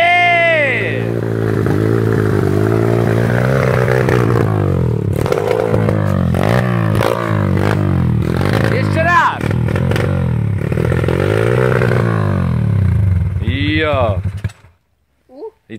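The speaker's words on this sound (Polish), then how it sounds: "Nieśmiertelny jest ten motocykl, co?" A Honda motocross bike ridden through mud, its engine revving and droning loudly and close for most of the run with rises and dips in pitch, while people talk over it, before it cuts off near the end.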